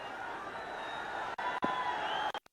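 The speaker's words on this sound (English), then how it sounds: "The crowd are all on their feet now. What a buzz we have." A cricket crowd roars and cheers at a Nepal versus Papua New Guinea T20 match, a dense sustained wash of voices at moderate distance, cut by brief dropouts near the end.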